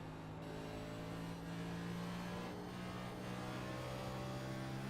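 NextGen stock car in iRacing at Phoenix, its engine droning steadily and loud as it accelerates up through the gears, a continuous harmonic roar with no break throughout.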